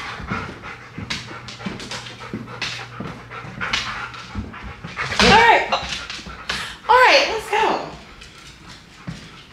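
Several dogs panting at close range inside a cabin house, with rapid breathy bursts, a few whimpers and scattered smacking sounds while a person calls to them.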